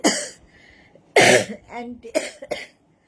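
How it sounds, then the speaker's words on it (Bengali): A person coughs several times in short bursts, close and loud, with throat-clearing sounds between the coughs and quiet gaps around them. "এতদিন কাশি থাকা ভালো নয়।"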